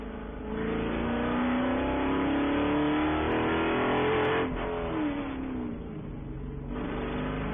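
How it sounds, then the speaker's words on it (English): A Spec Corvette race car engine drones loudly and steadily at Daytona, its pitch rising as it accelerates, dipping briefly, then holding at a constant high roar. "See Cecil giving that car the back and forth, left and right, trying to put some heat in those Nankang tires"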